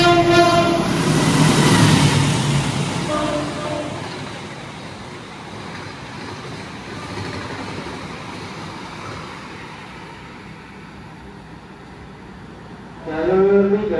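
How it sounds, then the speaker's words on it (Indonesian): The Pasundan passenger train rumbles steadily through a station as it departs from track 3, with a horn blast early on and a public announcement voice fading over the rolling noise. "Jalur 3 kereta api Pasundan persiapan diberangkatkan kembali."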